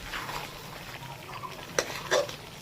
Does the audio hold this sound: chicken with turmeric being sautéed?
yes